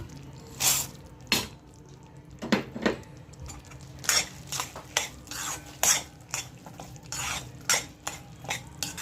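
Chana dal being stirred into hot jaggery syrup in a pan on the stove while making chikki, giving repeated scraping and clinking strokes of a spoon against the pan at an irregular pace, close and fairly quiet, with no talk.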